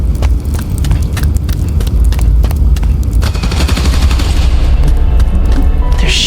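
Gunfire aimed at power station transformers in the Spider-Man: Miles Morales video game, with a dense run of sharp shots and booms ringing out over a loud, steady rumble that continues throughout.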